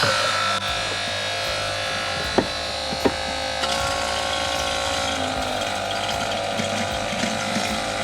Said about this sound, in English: All right, the pump is on.